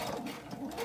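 A sewing machine stitches steadily while quilting a pillow cover, a short continuous mechanical hum at moderate volume with no voices.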